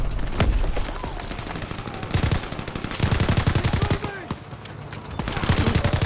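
Call of Duty WWII gunfire from a Winter Siege match rattles continuously in dense automatic bursts and single shots, loud and near over a busy battlefield din.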